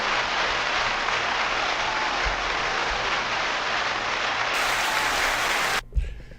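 An audience applauds a rapper with a sustained, dense wash of clapping at even volume that cuts off abruptly near the end, followed by a few faint thumps.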